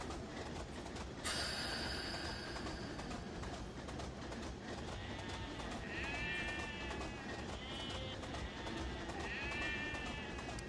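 Sheep bleat in wavering cries during loading into a railway wagon in Train Simulator Classic, heard over a constant rumbling train-like background, with a sharp hiss near the start and no speech.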